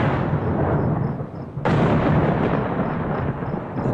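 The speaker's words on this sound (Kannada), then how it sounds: "ಗುಡುಗು ಸಿಡ್ಲು ಯಾವ ಕ್ಷಣದಲ್ಲಿ ಮಳೆ ಬರುತ್ತೋ" Rolling thunder fills a film scene, loud and continuous, with a sudden sharper crack partway through that sustains into a broad rumble.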